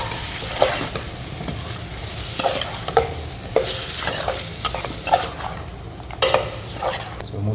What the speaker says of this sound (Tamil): கொஞ்சம் அப்படியே வதங்கட்டும் எண்ணெயிலேயே.